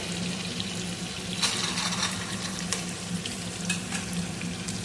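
Carrots and mixed vegetables fry in hot oil for vegetable pulao, giving a constant close sizzle with occasional stirring scrapes and crackles.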